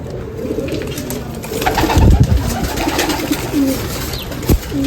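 Several pigeons coo in low, throaty bursts, with a louder coo near the middle and a short thump near the end.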